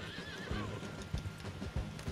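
A horse in Red Dead Redemption 2 gives a sharp whinny, then gallops off with quick, regular hoofbeats close by, loud over the game's background.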